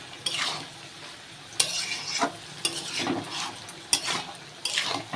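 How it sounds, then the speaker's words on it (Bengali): Ash gourd, shrimp and tomato are stirred in a pan, with repeated bursts of scraping and clattering over a low sizzle, each stroke close and distinct. "দিয়ে চিংড়ি মাছ আর টমেটোটা আমি এর মধ্যে একেবারেই দিয়ে দেবো। দিয়ে একটু নাড়াচাড়া করে এটা আমি ঢাকা দেবো।"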